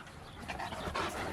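Two dogs playing rough together, with close, loud panting and snarling growls in a steady noisy rush, brief whimper-like accents near the end.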